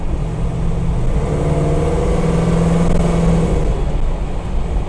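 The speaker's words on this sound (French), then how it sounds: "le son du V8, c'est quand même quelque chose à part" A 1970 Dodge Challenger V8 accelerates with a deep, rumbling engine roar that rises in pitch and holds steady and loud, close by, alone without voices.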